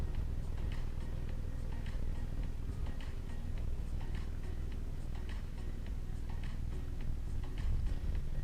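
A clock ticks steadily in an outdoor yoga setup, a fast, even series of light clicks running throughout over a constant background rumble.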